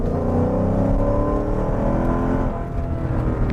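Supercharged Mercedes E55 AMG V8 engine accelerating hard, a loud, steady, dense engine roar with rising harmonic tones heard from inside the car, continuous for several seconds with no talk.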